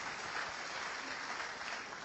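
A church congregation applauds after a sermon, a soft, steady wash of many hands clapping together for about two seconds, fairly distant and quiet.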